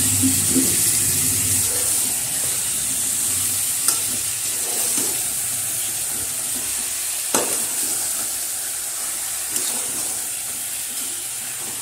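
Marinated chicken frying in released oil and being stirred, a steady close sizzle broken by a few sharp scraping clicks of the spoon against the pan.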